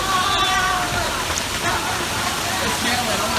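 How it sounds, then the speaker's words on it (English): Hail falling during a severe thunderstorm, a dense, continuous clatter and patter of ice striking surfaces nearby, loud and steady, with faint voices heard briefly beneath it. "It's hailing."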